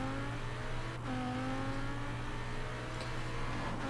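An Audi R8 in the video game Forza Horizon 4 drives through snow, its engine holding a steady loud drone with gentle pitch shifts as it cruises, alone with no talking.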